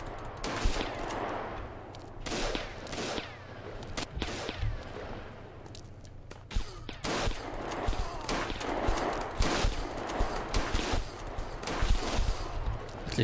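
Shotgun blasts from the online shooter WasteWater fire in dense, rapid bursts mixed with other gunfire, loud and continuous through the whole stretch.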